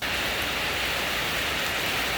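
Heavy rain falls at an outdoor event in Thailand, making a loud, continuous hiss of drops hitting surfaces with no breaks.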